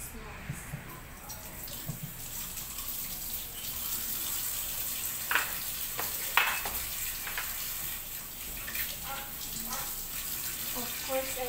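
Food is washed under a steadily running kitchen tap while making a morning smoothie, with a continuous water stream and a few faint clinks and splashes.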